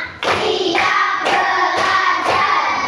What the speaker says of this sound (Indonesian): Oke, tepuk satu, tepuk dua, tepuk tiga